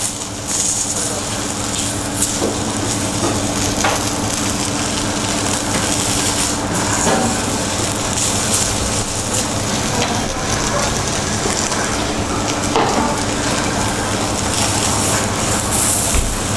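Meat searing in a small amount of fat in a pan in a restaurant kitchen, a steady dense sizzle running close and loud throughout the whole stretch.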